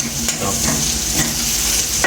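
Onion and green chili fry in oil in a pan for a koi fish and tomato curry, a steady close sizzle with light stirring noises, no voices.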